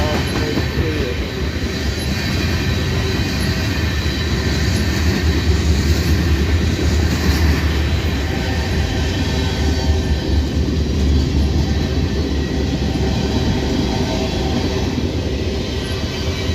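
A fast freight train of loaded tank cars rolls past close by in Abbeville, a loud continuous rumble of wheels on rail with faint rhythmic clacking and a thin metallic squeal above it, steady from start to finish with no talking.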